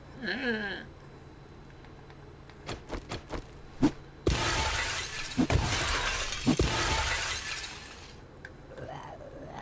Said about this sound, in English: I have a friend who has a fetish for the sound of breaking glass.